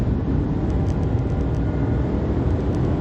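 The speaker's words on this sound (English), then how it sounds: "I'm going to do another acceleration run uphill here." A 2019 Lexus NX 300 turbo accelerates uphill with the pedal to the floor from about 60 mph, a steady dense rumble of engine and road noise with no talking.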